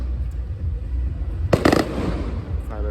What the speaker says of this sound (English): Didn't know we were getting a fireworks show.